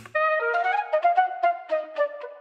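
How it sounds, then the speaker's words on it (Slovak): A short breathy flute sample in a hip-hop beat plays a quick run of notes with slight vibrato, fairly soft and unaccompanied. "A na záver ešte táto flautička"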